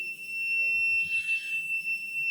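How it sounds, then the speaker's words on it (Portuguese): Low-air alarm of a positive-pressure self-contained breathing apparatus at five minutes of cylinder air remaining, a continuous shrill electronic whine with a brief warbling swell, close and moderate, over faint low rumble, without speech. "Chegar nos 5 minutos do tanque, ele vai fazer esse barulho aqui."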